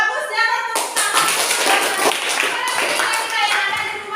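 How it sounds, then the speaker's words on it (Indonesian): Students in a primary-school mathematics classroom clap their hands together, a dense burst of applause that starts suddenly after a short quiet moment and continues steadily for about three seconds, fairly close and loud. "tepuk tangan"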